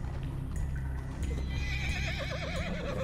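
A horse whinnies loudly in a long wavering neigh over a steady background rumble, with a few clopping hoof sounds.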